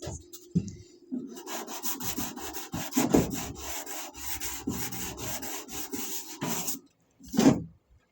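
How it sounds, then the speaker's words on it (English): Repeated abrasive strokes of sanding on a plastic van panel surface during a van build, steady rasping rubs with a few sharper scrapes, close and loud with no talk. "I've already sanded it once,"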